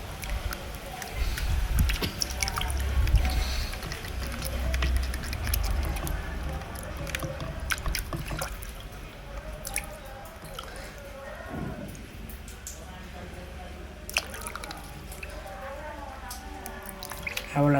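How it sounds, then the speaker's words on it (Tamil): Kilanga fish rubbed and rinsed by hand in water, with close, steady splashing, dripping and patter running throughout. "இந்த மீனை இப்படி இப்படி தேய்ச்சி இப்படி கழுவிட்டு இருந்தால் சுத்தமாக போயிடும்"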